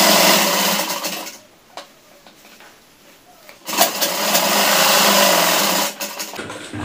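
A sewing machine stitches along the edge of a pant back pocket, whirring loudly in two long runs separated by a quieter pause with faint handling noise, and someone speaks at times.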